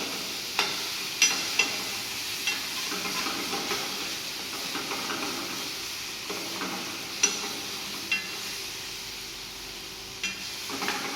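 Primavera sauce for a rosti cooks in a pan, its soft steady sizzle and hiss punctuated by occasional light taps and scrapes as it is mixed.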